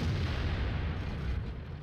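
E100 heavy tank's main gun going off in World of Tanks, a deep, loud low-frequency boom that fills the whole moment with a sustained rumbling roar and no voices over it.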